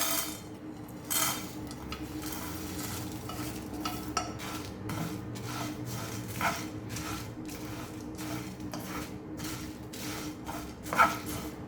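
Whole spices such as cloves and cinnamon leaf dry-roasting in a pan, a soft crackle under repeated light scraping and clinking strokes that keep a loose, steady rhythm, with no one talking.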